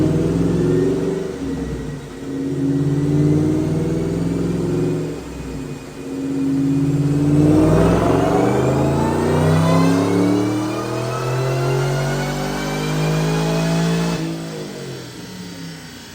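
A 2003 Mustang Cobra Terminator with a supercharger pulley, JLT intake and custom tune revs hard on a dyno, its loud engine note climbing steadily in pitch through a long pull before backing off near the end.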